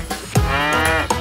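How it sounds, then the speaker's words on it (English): A single cow moo, drawn out and tonal, loud and close, lasting about a second in a children's farm song setting. "Cow!"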